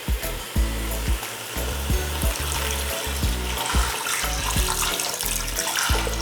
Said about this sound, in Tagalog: Maglalagay lang ako ng tubig.